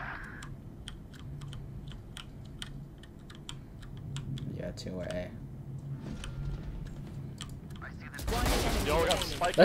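Rapid gunfire from the Valorant video game, a string of quick bursts and repeated sharp shots at moderate loudness, overlapping keyboard typing and excited talk, with a louder, noisy burst at the end.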